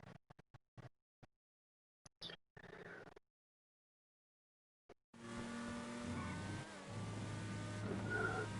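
A car drifts and skids in GTA Online stunt racing, with sharp tyre squeal and engine noise in the second half, preceded by scattered brief clicks and short bursts.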